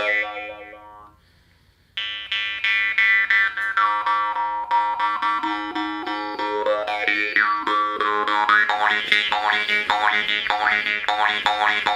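A pear-shaped morchang jaw harp twangs in a steady, rhythmic boing whose pitch sweeps and wavers as it plays. The twang is loud, close and continuous after a brief quiet start, with no voices.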